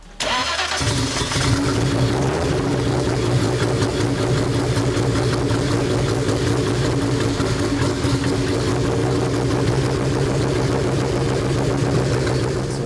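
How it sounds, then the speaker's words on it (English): A 2200hp Nissan Skyline R34 GT-R engine cranks and fires almost at once, then settles into a loud, steady, slightly high idle that stays close and unbroken for the rest of the time. "got a clean startup, which is good. Engine's idling a little bit high"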